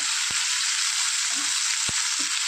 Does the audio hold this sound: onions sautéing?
yes